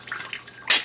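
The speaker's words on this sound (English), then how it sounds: "So I'll let that sit there and drip and dribble for a minute." Water drips and dribbles from drained house plumbing in a laundry room, with soft faint trickles and then a brief louder splash near the end.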